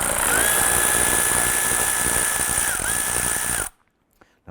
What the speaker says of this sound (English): Using our 10mm socket, we're going to go ahead, loosen and remove this clamp,